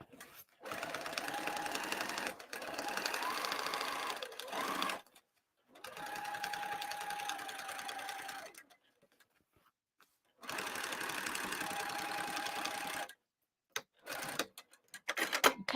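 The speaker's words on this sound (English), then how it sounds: "I did one side and I'm going to do the other side. I am back tacking, by the way." A sewing machine back tacks a bag seam in several loud close bursts of rapid whirring stitching, separated by pauses with small clicks and handling noise.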